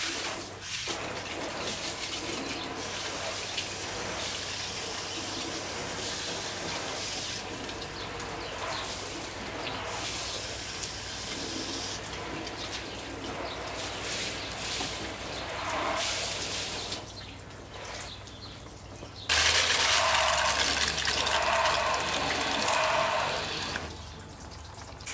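Water is poured over car paint, half treated with Soft99 Fusso Coat dark colour wax, so it beads and runs off; a steady splashing, running wash fills the whole stretch and gets louder near the end.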